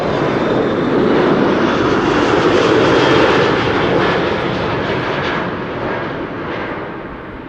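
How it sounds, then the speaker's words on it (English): The KLM Orange Pride airliner takes off from the Polderbaan runway. Its engine roar swells to a loud peak, then slowly fades as the jet climbs away. "For the second time in the show, the Orange Pride taking off from the Polderbaan"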